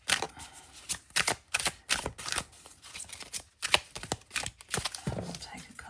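A deck of W.I.T.C.H. tarot cards being shuffled by hand, giving a run of quick, close, crisp riffling and slapping bursts in an irregular rhythm for several seconds, with no talking.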